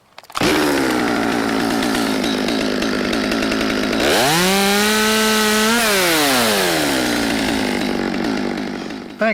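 A chainsaw cuts a tree limb up in a tree, running loud and close for about nine seconds, with its pitch rising and then falling back midway as the engine is throttled up under load.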